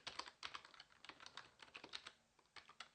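Quick bursts of keystrokes on a computer keyboard, close and quiet, in irregular clusters as debugging commands are typed.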